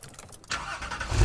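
A Porsche engine fires up, with faint mechanical clicks first and then a louder rumble building to a deep, close revving roar at the end.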